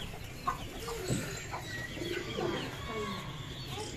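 Soft pigeon coos and fluttery calls scattered through outdoor ambience in Karachi, with faint distant voices and city background noise.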